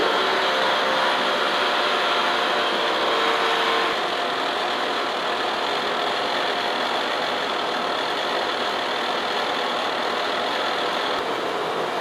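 A manual lathe bores a 100-year-old steam cylinder at slowed speed and feed on a finishing pass, giving a steady, even machining whir and hiss with no talking.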